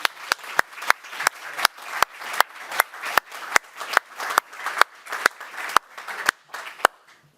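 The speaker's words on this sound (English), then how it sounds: "she will deserve a special round of applause right now" Steady, evenly spaced claps ring out about three per second for seven seconds, crisp and fairly close, marking a round of applause at a lecture panel event on the future of Europe.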